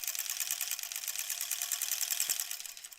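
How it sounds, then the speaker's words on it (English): A sewing machine stitches quilt blocks for a granny squares quilt, a steady, fast, even whir of the needle running close and uninterrupted for a few seconds. "Now I'll sew to the end."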